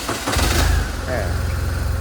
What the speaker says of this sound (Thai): เดี๋ยวสตาร์ทให้ฟังเสียงเครื่องยนต์